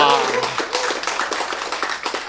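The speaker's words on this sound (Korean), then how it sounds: "박수!" Brief burst of audience clapping at a Korean health talk, a scatter of individual claps close by with a voice present at the start.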